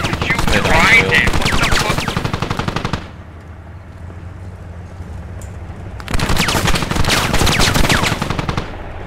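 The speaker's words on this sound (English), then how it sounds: "He's shooting at me!" Rapid automatic gunfire in the Squad military video game, loud, dense bursts lasting a few seconds, a short lull, then another sustained burst.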